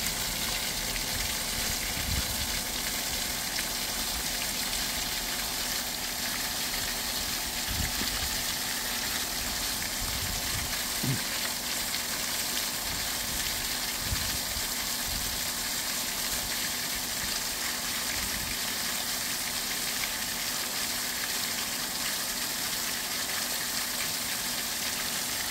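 A swimming pool sand filter runs on rinse, pushing water out in a steady low rushing gush that stays constant throughout, with faint occasional knocks underneath and no voices.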